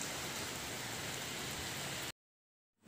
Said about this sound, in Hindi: सुबह तो बारिश हो रही है